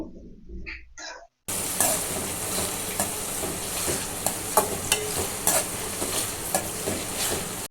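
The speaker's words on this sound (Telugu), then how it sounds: "ఫ్లేమ్ అనేది హై ఫ్లేమ్లో పెట్టుకొని ఈ ఆనియన్స్ అన్నిటిని బాగా ఫ్రై చేసుకోవాలి" Onions frying on high flame for chicken dum biryani make a loud, dense, continuous sizzle with scattered stirring clatters. It is preceded by a brief quieter moment of other sounds.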